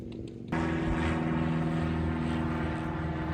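AirCam twin-engine propeller airplane taking off at a Georgia fall festival airfield, a steady droning engine roar with strong harmonic hum that starts abruptly and holds loud and even, with faint background noise before it.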